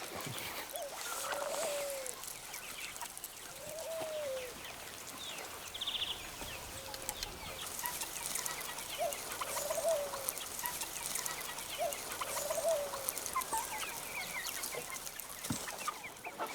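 Domestic chickens cluck on a farm where poultry are raised, with several short rising clucks spread irregularly across a steady outdoor background, fairly close and moderately loud.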